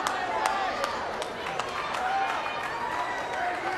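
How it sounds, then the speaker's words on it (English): Wrestling arena crowd cheering and clapping at a match, a steady rolling roar with scattered sharp claps, heard under a commentator's ongoing talk. "The crowd seems to be getting behind him."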